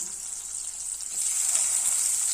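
Food frying in a pan as tomato goes in, giving a steady, loud, close hiss of sizzling that swells slightly and continues without talk.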